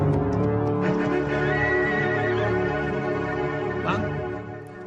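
A horse gives a long, loud, close neigh with a wavering harmonic whinny that carries for several seconds, over a steady background of ambient noise.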